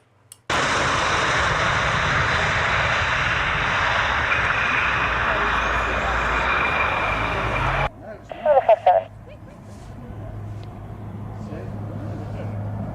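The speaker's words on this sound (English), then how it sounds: "That's a C-130." C-130 military transport plane flying overhead, a loud sustained propeller-engine drone for about seven seconds that cuts off abruptly, followed by quieter background noise with brief bursts.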